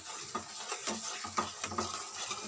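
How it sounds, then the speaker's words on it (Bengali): A spoon stirs spiced yogurt curry in a pan for paneer with pointed gourd, scraping and clinking in quick, repeated strokes over a soft sizzle, close and moderately loud. "তার জন্য আমি ঘন ঘন করে নাড়বো দইটা যেন না ফেটে যায়।"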